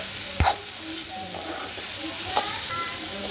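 Onion roasting in a pan with salt for a Malvani-style masala paste, a soft continuous sizzle under a few sharp scrapes of a spatula stirring, close and moderate in level, with no talk.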